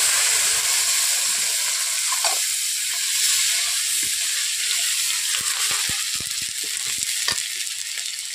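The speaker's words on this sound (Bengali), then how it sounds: "এরপর দিয়ে দিচ্ছি টমেটো কুচো," Chopped tomato sizzling in a pan of okra and poppy seed masala, a loud continuous hissing fry with faint clinks and stirring scrapes throughout.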